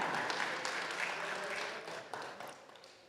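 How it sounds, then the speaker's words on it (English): A tech conference audience gives a short burst of applause to welcome a panel moderator on stage, starting fairly full and thinning out over about three seconds, with murmuring voices mixed in. "Round of applause,"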